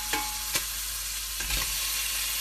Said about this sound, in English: So whilst the meat's browning, you can see that the oil has become nice and hot